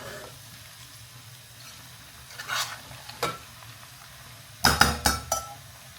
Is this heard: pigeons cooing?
no